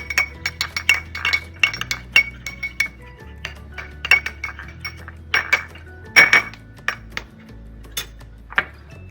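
A metal spoon mixes potato and honey with curd in a bowl, making rapid, bright clinks and scrapes against the sides in irregular bursts, close and clear with no voices.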